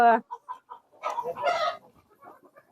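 Free-range village chickens cluck and squawk close by in short bursts while feeding, with a few softer clucks trailing off, no steady background beneath them.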